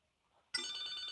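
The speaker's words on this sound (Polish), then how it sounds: "O, telefon dzwoni?" A phone in the GTA Liberty City Stories video game starts ringing abruptly halfway through. It is a bright, steady electronic ring after a near-silent moment, with no talk.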